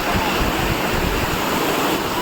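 Water rushes steadily at Umbarde (Bhaskar) waterfall near Nashik during the monsoon, a dense continuous roar close to the microphone with some wind buffeting.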